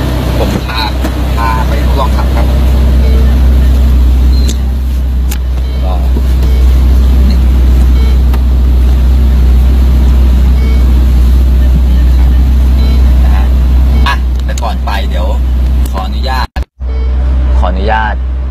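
Ferrari Portofino convertible driving on a road, a loud steady low engine rumble with road noise, with someone talking over it throughout.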